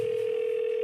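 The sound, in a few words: phone call ringing sound effect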